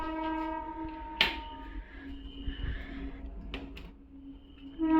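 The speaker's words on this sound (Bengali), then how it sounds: "হয়তো ট্রেনের আওয়াজ পাচ্ছ" A train passes a station right in front of a house, sounding a long tonal horn with a few sharp clanks and a low rumble that swells near the end.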